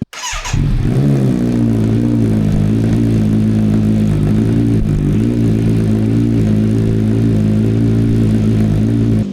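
A 2020 Kawasaki Z900 motorcycle engine fires up at close range with a brief starter whir, then settles into a loud, steady idle that carries on without break, and no one talks over it.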